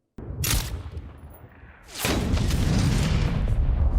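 Bursts of rapid gunfire crackle and boom, fading briefly before a dense, sustained volley of shots resumes, loud and close.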